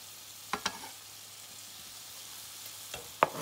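Garlic hitting a hot pan with ground meat for cottage pie, a soft steady sizzle under a few sharp clinks and scrapes of a utensil against the pan.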